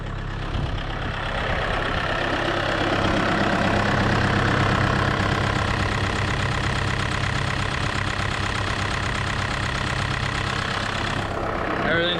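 A vehicle engine settles into a steady idle just after starting, a loud continuous low rumble that holds evenly throughout with no speech.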